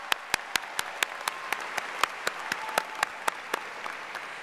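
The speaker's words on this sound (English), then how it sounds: "Give yourselves a round of applause." Applause rises from a graduating audience at a Wichita State University spring commencement, a steady wash of clapping with sharp loud accents spaced through the whole stretch and no voices on top.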